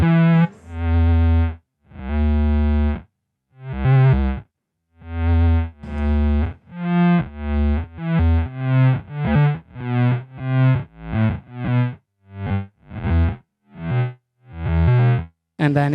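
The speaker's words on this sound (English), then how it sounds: "whenever you're ramping the low octave, it's pretty cool. It sounds somewhat like a cello." Instrument notes run through a Beetronics ZZOMBEE effects pedal ramping a low octave, giving a bowed, cello-like distorted tone with a sequence of separate sustained and plucked notes, loud with no talk.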